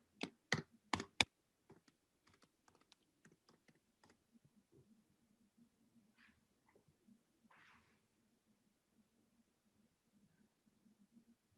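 A password is typed on a computer keyboard: a few sharp, loud clicks open the sequence, then a long trail of faint, sparse key taps over a quiet hum.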